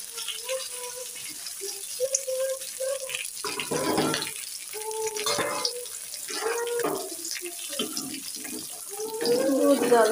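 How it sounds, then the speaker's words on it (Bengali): Milk and water pour into a pot of curry with taro and fried rui fish in a home kitchen, a running splash under intermittent talk, with light rattles and a louder gush near the end. "দুধ জল দিচ্ছি"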